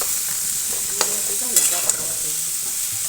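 Amla pickle with sugar being stirred in a pan over heat, a steady soft sizzle with a few sharp scrapes of the spoon against the pan, close and alone without talk.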